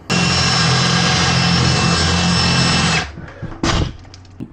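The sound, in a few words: power drill drilling out wooden dowels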